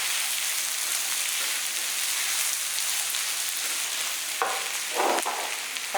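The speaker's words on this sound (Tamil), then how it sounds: "எல்லாமே எண்ணெயிலேயே நல்லா வறுபடட்டும்" Cashew nuts and rava khichadi ingredients fry in oil, giving a steady rain-like sizzling hiss throughout, with a couple of brief louder stirring bursts near the end.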